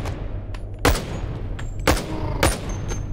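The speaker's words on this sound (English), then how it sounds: "Now we're gonna shoot them." Gunshots in the VR game Boneworks crack out as three sharp, separate reports spaced about a second apart, loud and close over a low background hum.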